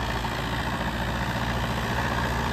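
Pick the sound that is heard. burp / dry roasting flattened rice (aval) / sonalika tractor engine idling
sonalika tractor engine idling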